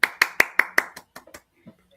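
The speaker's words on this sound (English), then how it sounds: "Yeah, golf clap." A slow golf clap during a live baseball play-by-play: about eight distinct, evenly spaced handclaps that grow quieter and sparser, with a faint voice near the end.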